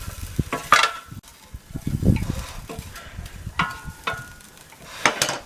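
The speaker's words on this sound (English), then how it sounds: "So I'm just going to give it a bit of a stir." Beef stir-fry being stirred in an air fryer basket, with scraping, clinking utensil contacts and a soft sizzle running through, moderately close, with no talking.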